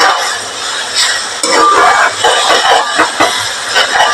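Crushed ginger sautéed in a pan, with a spoon scraping and stirring through a soft sizzle, clinking against the metal in uneven strokes, close and fairly loud.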